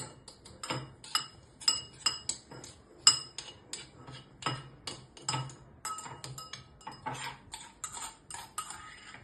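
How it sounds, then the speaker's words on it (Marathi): Sharp metallic clinks and scrapes of a spoon against a bowl as crushed green chili, garlic, coriander and mint thecha is transferred from a mortar. The taps come in an irregular series, close and fairly quiet, with no talk. "तर आता आपण ते एका वाटीत काढून घेणार आहोत."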